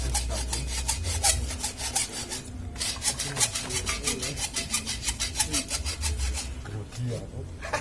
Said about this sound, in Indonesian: Kita kupas aluminium dengan gergaji.